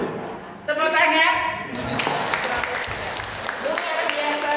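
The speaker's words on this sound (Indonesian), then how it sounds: "Tepuk tangan." Applause from a church prayer-group audience, starting about a third of the way in and continuing as a broad wash of clapping to the end, with a voice heard over it at the start.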